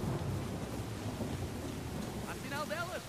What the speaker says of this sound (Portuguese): Que grande tempestade.